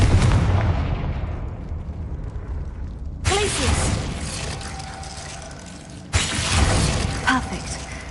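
Confringo blasting spells in a wizarding video game, two loud shattering bursts that hit abruptly a few seconds apart, each trailing off in debris, over a fading rumble from an earlier blast.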